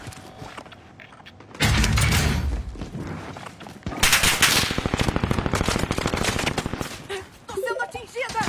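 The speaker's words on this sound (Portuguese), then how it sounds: "Tô sendo atingida! Merda, tô levando tiro!" Loud automatic gunfire rattles in the Warzone shooter, coming in long, rapid bursts with mechanical clanks and thuds between the volleys.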